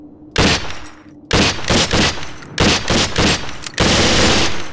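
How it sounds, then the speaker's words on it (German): M4 rifle in SWAT 4 fired on an indoor shooting range, loud close bursts of rapid automatic fire in several groups separated by brief pauses. "Das M4 feuert halb- und vollautomatisch."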